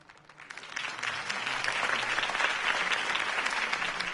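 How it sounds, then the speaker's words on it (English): Crowd applause at a political campaign rally for Harvey Dent in Batman: The Telltale Series, a dense, steady wash of clapping that swells in quickly and holds loud and full throughout. "If only Mr. Wayne, my campaign's largest backer, could have heard that applause"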